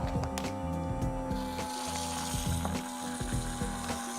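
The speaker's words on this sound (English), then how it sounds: "We just vacuum packed some broccoli." A FOSA vacuum sealer pump draws air from a reusable bag of broccoli, giving a steady motor hum with a tonal whine and ratcheting clicks as it runs nonstop for a few seconds.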